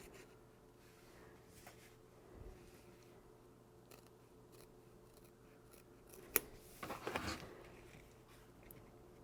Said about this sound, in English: So I really take my time to cut nice straight lines on this.